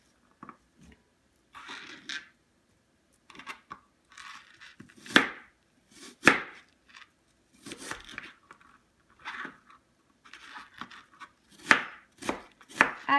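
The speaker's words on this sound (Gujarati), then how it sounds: "આપણે આપણું એપલને આવી રીતના કાપી નાખીશું" Apple with its peel still on is chopped for a salad: a run of crisp, irregular knife-on-board chops, some close and sharp, with short pauses between bursts.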